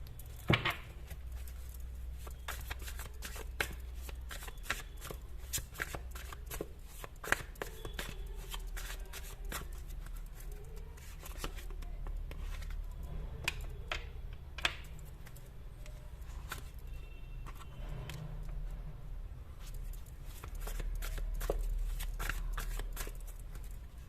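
Tarot cards are shuffled close up, with soft repeated riffling and flicking in an uneven rhythm over about twenty seconds, accompanied by light handling sounds and a low steady background hum.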